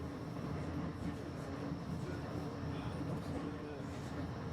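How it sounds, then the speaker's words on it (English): A Blackpool tram ride, a constant rumbling rattle of the tram rolling along the track heard from inside, steady and fairly quiet with no pauses. "It's always great to have a tram ride."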